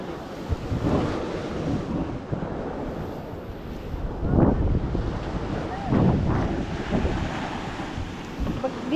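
Sea waves crashing on a rocky shore, heard as a continuous windy roar with repeated surging swells, while someone talks faintly in the background.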